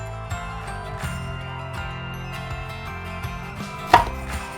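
A knife dices red bell peppers on a cutting board, making steady, close chopping taps under continuous background music. A sharper knock lands near the end.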